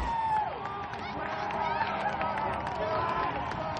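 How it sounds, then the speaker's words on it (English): Loud crowd noise from spectators at a Portland Stags home game in a hot, humid room during the final seconds, a steady dense roar of voices and cheering with sharp whistles and shouts throughout. "That crowd is loud."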